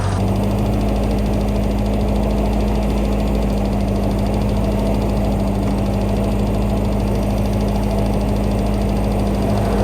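A tractor engine idles steadily and close by, a continuous low rumble with a rattling, knocking texture and no pauses.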